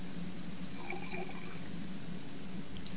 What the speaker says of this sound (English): Then 60 ml of distilled water were added.